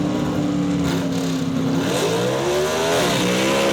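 Gasser drag race cars launch side by side down the dragstrip at Emerald Coast Dragway in Holt, a loud, sustained engine roar that holds steady and then shifts pitch as they pull away.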